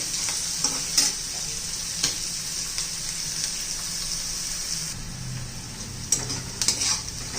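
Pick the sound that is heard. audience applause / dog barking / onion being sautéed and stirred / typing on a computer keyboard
onion being sautéed and stirred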